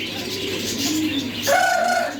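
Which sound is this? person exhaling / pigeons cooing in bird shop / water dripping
pigeons cooing in bird shop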